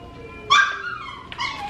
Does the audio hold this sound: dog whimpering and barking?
yes